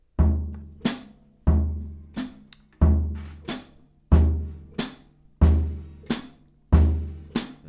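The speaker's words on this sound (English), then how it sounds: "We're going to walk our feet on bass drum on beat 1 and 3," Drum set warmup groove with bass drum on beats 1 and 3 and hi-hat on 2 and 4, crisp alternating hits in a slow, steady pulse, each decaying before the next, close and alone.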